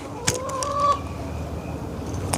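Backyard chickens clucking near a makeshift box-fan cooling setup, a few short calls early on with a steady fan-like hum underneath throughout.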